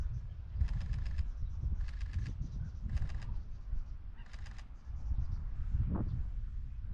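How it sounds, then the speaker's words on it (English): A flock of birds calls in repeated bright bursts over a low rumble, with wings flapping nearby. "Oh my god, so many birds."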